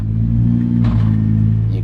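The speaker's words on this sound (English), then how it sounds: "you hear a lot of mechanical stuff here, and as I shift this into drive" A 2022 Nissan GT-R T-Spec idles with a deep, steady engine drone, and a brief mechanical clunk and whir rise from the drivetrain partway through as it is shifted into drive.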